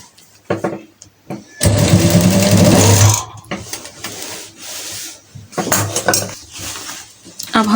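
Sewing machine stitching a uniform coat collar onto the shoulder seam: a steady, close mechanical whir that runs about one and a half seconds, surrounded by rustling cloth, handling clicks and short bursts of stitching.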